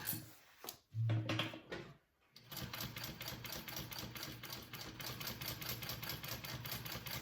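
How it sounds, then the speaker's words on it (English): A sewing machine stitching a row on a handbag: a few short starts and stops, then a rapid, steady mechanical rattle of needle strokes running continuously at close range, no talking. "do another row of stitching 1/8 of an inch away from that row"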